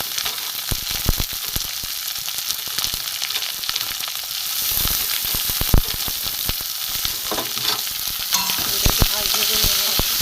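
Chopped tomato, onion and green chili fry in a pan for ghugni, giving a steady close sizzle throughout with scattered sharp crackles and stirring scrapes.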